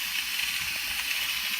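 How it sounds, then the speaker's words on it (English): Steam hisses steadily from the vent of an Instant Pot during a quick pressure release, a continuous bright rushing hiss, close and alone, holding constant throughout. "So the pot has beeped and we're gonna do a quick release."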